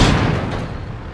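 A tank gun fires in World of Tanks: one loud, close, heavy boom that fades into a rumbling tail.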